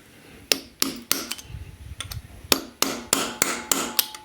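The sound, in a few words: cutting a bolt on Alfa Romeo 2.4 JTD engine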